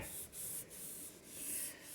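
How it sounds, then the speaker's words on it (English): Rhythmic back-and-forth sanding strokes rasp across a Studebaker Hawk door panel during body work, close and steady, with brief pauses between passes. "the sanding did what it needed to do"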